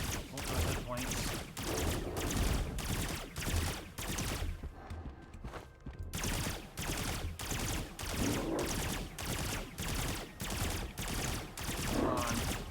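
Relentless rapid gunfire from the video game Virtuverse, a sniper rifle and energy rifle in play, repeats in steady evenly spaced bursts across the whole stretch, pausing briefly midway, with a voice talking over it.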